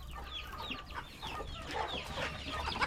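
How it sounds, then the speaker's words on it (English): Several chickens cluck and murmur close by on a farm in the Philippines, a busy overlapping chatter of short calls with no people speaking. "Hey, look at them all. So many chickens,"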